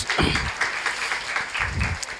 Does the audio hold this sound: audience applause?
yes